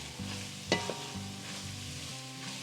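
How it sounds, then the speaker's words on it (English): Sorpotel meat sizzling in a pan as it is mixed with spice mix for a traditional Goan dish, a steady soft frying hiss with one sharp scrape of the spoon and a few light stirring knocks, close and fairly quiet. "We're going to give it a mix so that the meat gets well coated with the spice mix."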